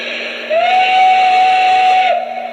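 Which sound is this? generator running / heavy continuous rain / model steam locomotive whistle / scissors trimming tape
model steam locomotive whistle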